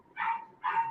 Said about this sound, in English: I heard your puppy. Yeah, that's my dog.